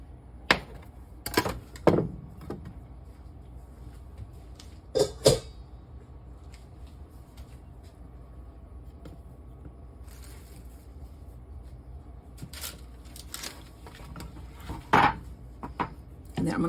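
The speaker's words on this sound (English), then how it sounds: "So I'm going to cut this in 3 pieces." A knife cuts cinnamon roll dough into three pieces on a board: a few sharp, close chopping knocks in small clusters, separated by quieter stretches of faint room sound.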